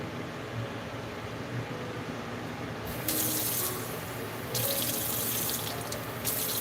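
Tap water runs steadily into a sink during a home meat-canning session, a continuous hiss that grows louder and more forceful in two surges partway through.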